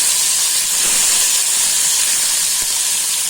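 Tomato dropped into melted butter with spices in a hot pan gives a loud, steady hiss and sizzle that holds evenly throughout, with no one talking.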